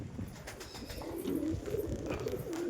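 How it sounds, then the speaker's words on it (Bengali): Pigeons kept at home give low, throaty coos that swell midway through a brief stretch. They sound close and moderately quiet, with no talking. "এই যে কবুতরগুলো ভরি, আর কবুতরটা বসলো না, কবুতরটা বেরিয়ে গেল"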